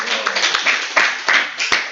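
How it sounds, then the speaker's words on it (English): An audience at a spiritual lecture on Lord Caitanya's teachings breaks into a short burst of dense clapping, filling the room steadily for a couple of seconds. "Give him a round of applause."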